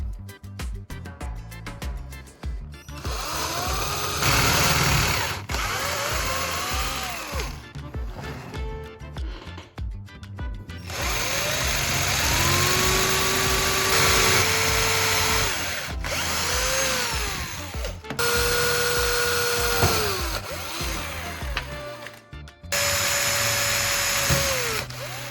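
Power drill boring holes into a wooden block, heard as several loud bursts of high whining motor tone that rise and fall in pitch, separated by short pauses, with steady background noise throughout.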